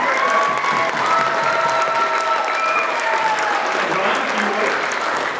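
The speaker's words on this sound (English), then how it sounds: "Give her a round of applause" An audience at a school drama performance applauds steadily, a thick continuous wash of clapping with some cheering voices mixed in throughout.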